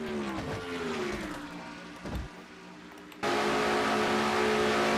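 Race car engine from a NNSCRA Castrol GTX Cup Series racing video game, a steady loud engine drone that dips and shifts pitch as the car brakes for a turn, then surges back louder to full throttle.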